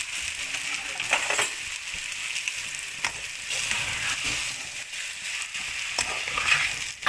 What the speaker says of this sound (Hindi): बस अब मुझे मिक्स करना है इसे।